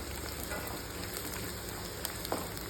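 Coconut pieces and dried turkey berries frying in a pan, giving a steady, dense, close sizzle with faint crackles and occasional stirring ticks throughout.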